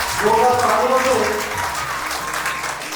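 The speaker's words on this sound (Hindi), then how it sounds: "एक बार जोरदार तालियों से स्वागत करेंगे" Loud, sustained applause from an assembly crowd welcoming a guest at an association's 25th anniversary function, steady clapping filling the whole stretch with some voices underneath.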